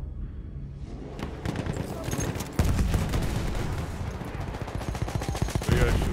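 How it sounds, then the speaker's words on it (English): Battlefield 1 gunfire on PS4, dense bursts of rapid rifle and machine-gun shots with heavier booms, loud and continuous throughout the battle. "What are you guys shooting at?"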